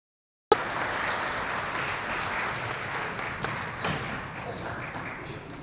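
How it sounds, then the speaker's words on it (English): Elementary school audience applauds fourth grade students of the month, a sudden onset of broad, even clapping from a crowd indoors, fairly soft and steady, slowly fading. "Let's give them a big round of applause."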